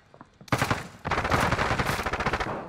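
Hostile automatic gunfire in Call of Duty Warzone: a close, loud rapid burst of shots, briefly pausing, then resuming as a long, fast rattling stream that tapers at the end.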